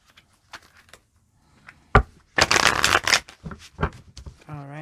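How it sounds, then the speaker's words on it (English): A deck of tarot cards being shuffled by hand at close range, a dense riffling burst lasting about a second after a few soft taps, followed by a short sung note. "I'm going to grab a couple shuffles here"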